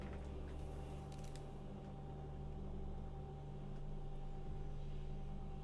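A kitchen blender runs steadily in another room, a constant low mechanical whir with a faint motor hum holding at the same level throughout, with no talk over it.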